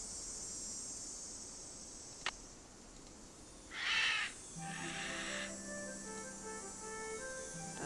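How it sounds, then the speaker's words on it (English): A bird caws once in Nancy Drew: Ghost Dogs of Moon Lake, a short harsh call standing out over a faint steady ambient background, followed by a softer tonal sound, no talk. "That sounds like a bird, but not like one that we need right now."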